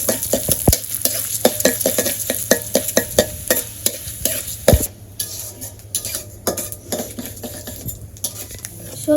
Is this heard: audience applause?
no